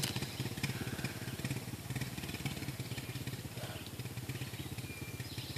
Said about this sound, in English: There goes Dad with a load of firewood on the four-wheeler.